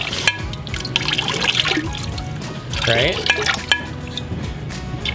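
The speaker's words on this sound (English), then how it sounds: "now we take this green and we pour it just along the edge" Green pottery glaze poured along the edge of a clay piece: a wet, trickling and splattering flow with scattered drips, fairly close, under a brief spoken word.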